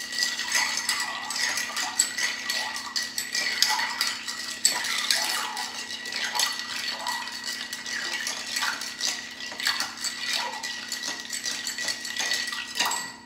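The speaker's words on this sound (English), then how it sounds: "let's give it a stir and some ice" Ice clinks and rattles as a spoon stirs a Negroni of gin in a mixing glass, a close, steady run of bright metallic and glassy taps with no voices.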